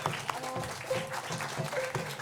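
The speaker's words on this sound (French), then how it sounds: "on peut applaudir" Spectators give a brief, soft round of applause, scattered claps with a faint voice underneath.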